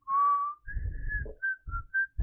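A clear whistled melody, a long sustained note followed by several short phrases, with low rustling or thumping noises underneath.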